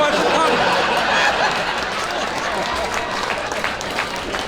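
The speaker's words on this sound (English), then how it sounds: "I can't believe you guys clapped at that." Comedy club audience clapping at a stand-up show, a dense, steady wash of applause mixed with crowd murmur and a few chuckles, sustained and fairly loud throughout.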